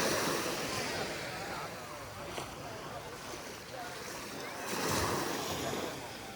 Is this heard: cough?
no